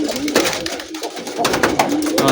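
Several pigeons coo continuously nearby in their loft in the morning after release, overlapping low warbling calls filling the whole stretch.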